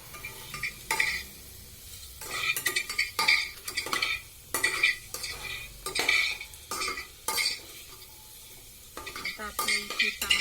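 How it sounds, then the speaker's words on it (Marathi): Onion-garlic masala for masale bhat sautéed and stirred in a pan, with repeated scraping and clinking of a spoon against the metal pan in bursts over a soft background sizzle, close and with no talk. "आता मी हे 2 मिनिटं परतून घेणार आहे."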